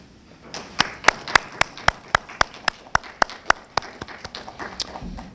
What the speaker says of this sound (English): I would like you to stand up this morning and just clap for yourself